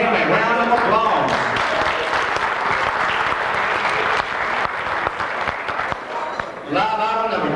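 An auction audience breaks into sustained, fairly loud applause, a dense clatter of clapping that swells and then tapers, with a voice heard over it at the start and end.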